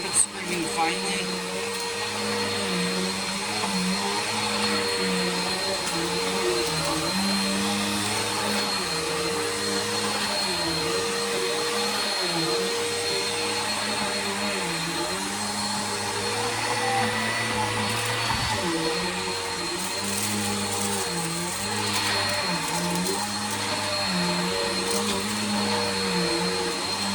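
A Sanitaire SC679J commercial upright vacuum runs steadily upstairs over carpet, its motor drone continuous and close with a slightly wavering pitch as it is pushed back and forth.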